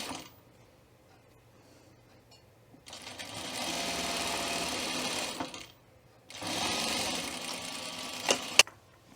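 Sewing machine stitching a quarter-inch seam joining a facing to a welt pocket lining, two close bursts of steady whirring separated by a short pause, then a sharp click.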